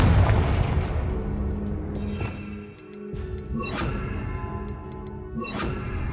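A Confringo fire spell in Hogwarts Legacy bursts with a heavy boom at the start, followed by ringing, whooshing blasts near 2.2, 3.7 and 5.5 seconds, each trailing off into a lingering tail.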